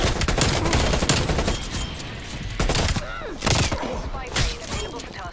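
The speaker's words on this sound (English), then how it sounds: "Go with your automatic guns." Dense bursts of automatic gunfire crackle from Call of Duty Black Ops Cold War, several rapid volleys with short gaps between them, loud and close.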